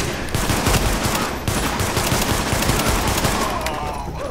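Gunfire in the video game Tom Clancy's The Division: loud, dense bursts of automatic fire and overlapping shots roll on without pause, with a full, rumbling battle din underneath.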